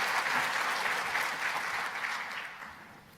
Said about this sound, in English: Would you give him a big round of applause?